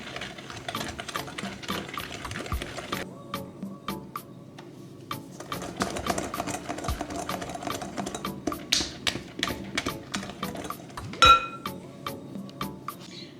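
Rapid clinking of a whisk against a bowl while brownie batter of beaten eggs and sugar is whipped, a busy run of close, sharp metallic ticks and taps with no talk.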